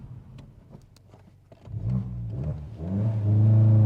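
A VW Golf GTI Mk7 engine starts quietly, then surges as the car accelerates hard on a wet road, the revving growl building loud and close by the end.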